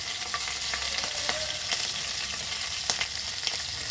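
Green chilies and ginger paste frying in oil in a pan alongside bay leaves, a steady close sizzle broken by a few sharp spatula scrapes and crackles, no talking.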